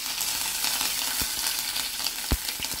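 Garlic and curry leaves fry in hot oil for a tempering, a steady close crackling sizzle with a few sharper pops and spits standing out, no voices.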